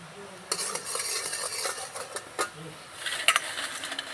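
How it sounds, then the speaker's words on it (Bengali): A utensil stirs jaggery as it cooks down in a pan for a sweet snack, giving a close, continuous scraping and sizzling with occasional louder knocks and no voice over it. "গুড়টা একটু পাক করে নিব।"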